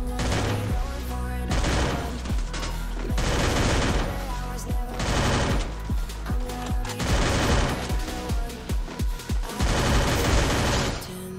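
Two teams exchanging gunfire in a video game, with loud bursts of automatic fire and rapid shots repeating in heavy volleys, broken by short gaps.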